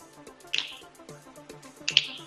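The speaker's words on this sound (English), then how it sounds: "We're going to go to the right, and we're going to snap." Two crisp finger snaps about a second and a half apart during a dance workout, close and clear over quiet background chatter.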